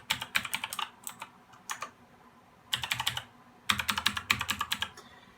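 Keystrokes on a computer keyboard, close and crisp, arriving in quick bursts of rapid taps separated by short pauses; no one talks.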